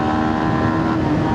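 A 2026 Yamaha XSR 155 motorcycle engine revved to around 10,000 RPM, a loud, close, sustained high-revving buzz with a steady droning tone throughout.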